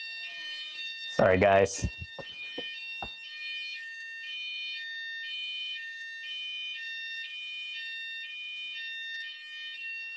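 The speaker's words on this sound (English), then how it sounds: "Fire alarm's just going off." A fire alarm goes off indoors, sounding a steady, repeating high electronic tone that carries on throughout, with a brief spoken apology and a few knocks near the start.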